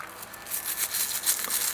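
A toothbrush scrubs small engine parts from a G.M. Angem Regula 25 model engine that have been soaking in kerosene, giving a steady, close bristly scratching and rubbing with no talking.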